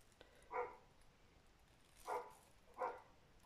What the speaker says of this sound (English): And we got a dog barking.